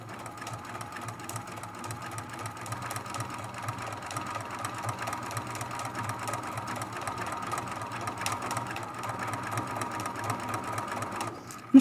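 A sewing machine runs continuously while stitching an art quilt with a longer stitch, a steady mechanical whir with rapid needle ticking that ends in a sharp click.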